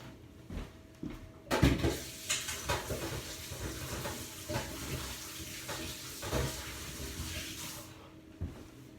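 Water runs into a sink while cabbage leaves are rinsed and handled, with splashes, rustles and light clatters of a bowl against the basin.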